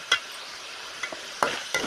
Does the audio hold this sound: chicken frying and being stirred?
yes